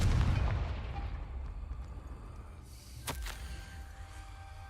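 Confringo fire spell in Hogwarts Legacy: a loud, rumbling blast that fades over a few seconds, followed by a sharp crack near the end, with no talk.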